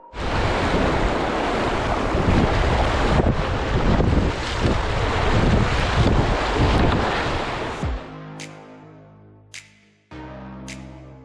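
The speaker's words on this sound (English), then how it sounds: "Got some good wave trains coming up here." River wave trains splash and rush loudly around a packraft, with heavy wind buffeting, until the roar cuts to quiet water and a few sharp clicks near the end.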